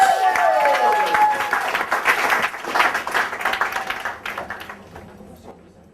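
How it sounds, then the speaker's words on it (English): A seminar audience breaks into loud applause, which thins and fades away over several seconds, with a voice speaking over the start. "Let's give a round of applause."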